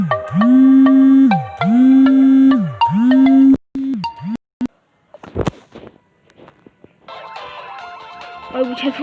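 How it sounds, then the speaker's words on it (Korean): Phone ringing with an incoming call, several repeated warbling ring tones close and loud, then cut off, followed by clicks, handling noise and scattered sounds. "전화가 갑자기 와가지고"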